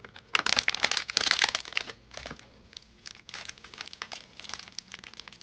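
Plastic wrapper of a Xanathar's Treasure dice pack being crinkled and torn open, loud close crackling bursts at first, then lighter intermittent rustles.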